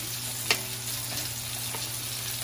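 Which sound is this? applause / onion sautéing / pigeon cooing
onion sautéing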